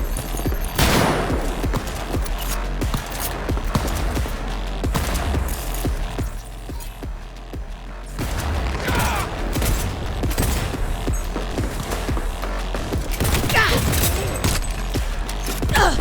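A grenade blast and bursts of gunfire in Cyberpunk 2077 form a chaotic firefight of repeated loud shots and thumps, with mechanical creaks and voices shouting throughout.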